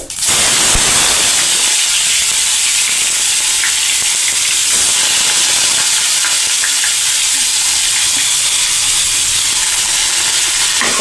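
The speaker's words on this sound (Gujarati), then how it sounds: "હવે આપણે તેમાં ડુંગળી નાખી દઈશું" Loud, intense sizzling as onions with a little water on them hit hot oil with turmeric, a continuous spitting hiss with occasional clatter of stirring.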